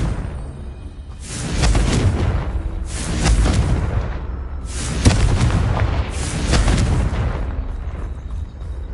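Spell explosions boom out in the Hogwarts Legacy video game, about four loud, heavy bursts roughly a second apart, each with a deep rumbling decay, with no talk over them.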